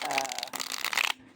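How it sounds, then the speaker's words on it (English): Deck of thick oracle cards riffle shuffled by hand, a brief crisp fluttering burst lasting about a second before stopping abruptly. "I can riffle shuffle"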